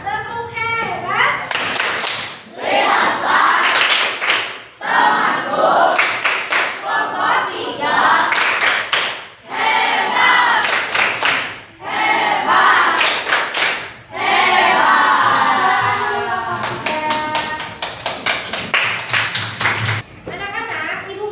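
A primary school class of children does the rhythmic 'tepuk hebat' clapping chant, bursts of quick patterned claps alternating with children's voices chanting together, repeated in several rounds.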